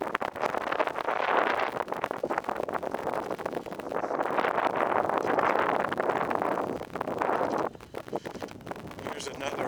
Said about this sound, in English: It is a little brisk. It's because of the wind mainly.